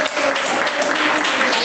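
A church congregation claps together in a dense, continuous burst of applause that fills the room evenly, with faint voices mixed underneath.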